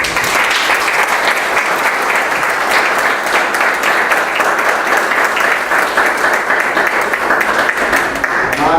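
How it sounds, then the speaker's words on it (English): A crowd applauds steadily and loudly, dense clapping sustained throughout with no pause. "please join me in giving him a round of applause"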